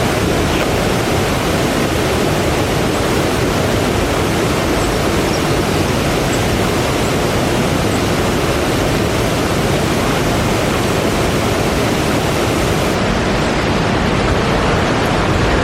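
Rydal Grot waterfall pours in a dense, unbroken roar, loud and close. The broad rushing water holds steady for the whole stretch, with no voices.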